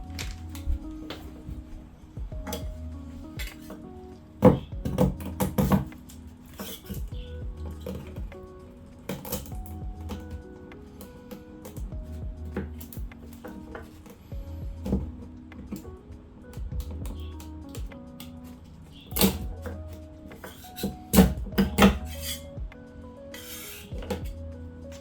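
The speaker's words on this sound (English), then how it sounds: "Now we gotta scrape him off." A cured resin 3D print is scraped off the metal build plate, giving intermittent scratchy scrapes and clicking knocks spread over a steady low hum, close by and moderately quiet.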